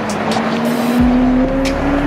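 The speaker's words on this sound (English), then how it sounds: "it's dead that car making all that noise" A loud car engine revs hard on a city street, with a strong steady drone, a sharp pitch change midway and no voices over it.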